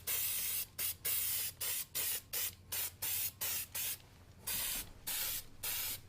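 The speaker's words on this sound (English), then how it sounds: "make sure that we point the nozzle to the black dot before we start to spray" Design Master Olive Bright spray paint hisses from an aerosol can onto flowers and Gerbera straws in short, loud, close bursts, about a dozen evenly spaced sprays separated by brief pauses.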